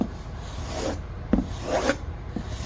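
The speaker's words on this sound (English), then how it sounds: "I'm being a little flippant with the sandpaper because I'm trying to make sure you can see what I'm doing" Sandpaper rubs along a large knife blade in a few slow, raspy strokes, close and fairly quiet, with no talking.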